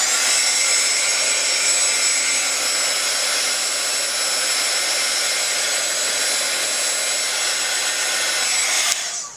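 A heat tool blows a steady, loud airy whoosh while drying a paper flower, running continuously at close range before cutting off at the end.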